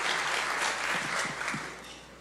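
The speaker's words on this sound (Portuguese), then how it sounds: "Você pode aplaudir nossos voluntários" A church congregation applauds its volunteers with a loud, dense, continuous roar of clapping filling the room for the whole span, with no voices standing out.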